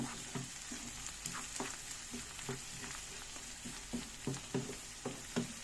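Onions and red peppers sizzle in a hot pan with a steady crackling fry, broken by repeated scraping clatters as they are stirred and browned at the edges; no voices.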